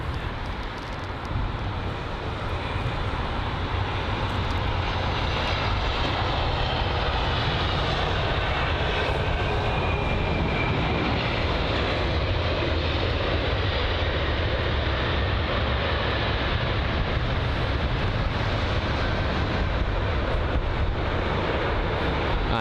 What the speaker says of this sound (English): the A320-200 from Oslo